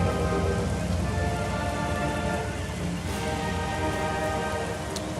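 Heavy rain and crossing waterfalls in the video game Metroid Prime Remastered pour down in a dense, constant hiss that stays loud and steady throughout, with a few faint crackles over the rush.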